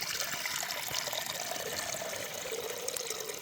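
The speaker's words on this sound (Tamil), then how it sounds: "இப்போ மண் சட்டி வச்சாச்சு நம்ம தேவையான அளவு தண்ணி ஊற்றிக்க போகிறோம்" Water is poured into a clay pot set up for boiling dried fish in a Sri Lankan home kitchen, giving a steady, fairly quiet trickling splash that runs on for several seconds with no voices.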